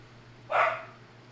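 A single short dog bark rings out once, moderately close, over a quiet background hum.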